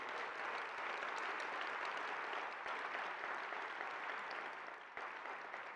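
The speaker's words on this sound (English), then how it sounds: "Can we clap it up for all the young people that are in the room right now?" Sustained crowd applause at a Martin Luther King Jr. breakfast event, a dense, even wash of clapping from a large room that carries on throughout without pause.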